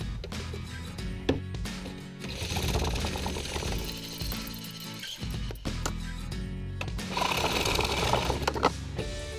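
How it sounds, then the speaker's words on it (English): A power saw cuts PVC pipe into short pieces in a workshop, its buzzing whine running steadily in repeated passes with brief pauses between cuts. "Next I'm gonna cut my 6 inch pieces, which I need 6 of, and then my 2 inch pieces"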